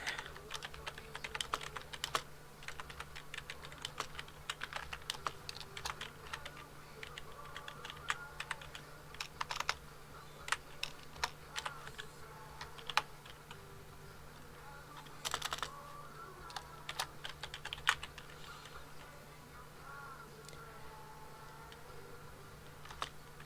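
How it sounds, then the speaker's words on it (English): Quick, irregular clicks of typing on a computer keyboard run steadily throughout at close range, with a low constant hum beneath and no talking. "Do I want to type a welcome?"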